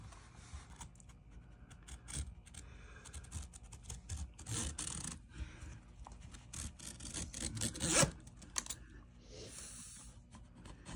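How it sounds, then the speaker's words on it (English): A box cutter slicing scrap Phifer Suntex window screen along a rib in an RV window, giving a steady close scratchy rasp with small clicks, broken by a sharper scrape midway. "we'll cut with my shiny new box cutter right up"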